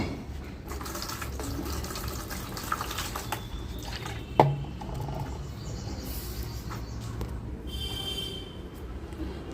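Water is poured over bitter gourd in a faint, steady trickle, with a few soft splashes and one brief knock partway through; quiet and without speech.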